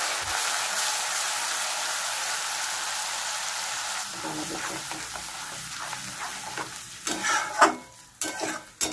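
A ground paste of onion, ginger, garlic and black pepper sautés in a pan, giving a loud, steady sizzle that thins out toward the end, where scraping stirs and clinks of a spoon come through.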